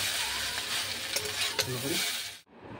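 Egg chowmein with vegetables sizzles loudly in a hot pan as it is stir-fried, a bright steady hiss with a few quick scraping strokes, close up, ending abruptly near the end.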